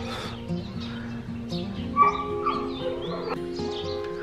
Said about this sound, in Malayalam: എങ്ങും കിളികളുടെ കലകല ശബ്ദം,